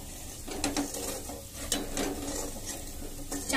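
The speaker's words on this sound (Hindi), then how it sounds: "और इन सबको अच्छे से हम भून लेंगे 5 मिनट के लिए" Masala being stirred and fried in a pan for egg daal fry, a soft sizzle under repeated scraping, clicking strokes of a spoon against the pan, irregular and close.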